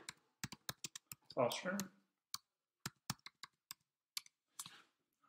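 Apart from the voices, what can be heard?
typing on a computer keyboard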